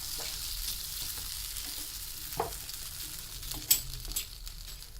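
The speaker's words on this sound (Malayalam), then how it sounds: "ഇനി നമുക്ക് ഇതിലോട്ട് ഈ തേങ്ങയും കൂടി ആഡ് ചെയ്ത് കൊടുക്കാം കേട്ടോ. ഇത് നന്നായിട്ട് മിക്സ് ചെയ്ത് കൊടുക്കാം." Grated coconut is stirred into erissery frying in a pan for an Onam sadya, giving a faint steady sizzle with a few soft spoon scrapes and taps, quiet and close.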